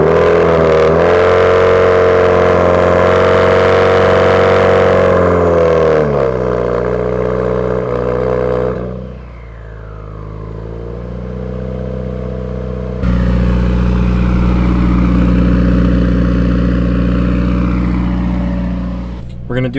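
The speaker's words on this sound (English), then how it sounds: "I'm just gonna do a cold start and then I'll show you, I'll let you listen to what the gearbox sounds like." A car engine idles after a cold start with a steady, loud drone. The pitch drifts and briefly dips near the middle before the idle settles again.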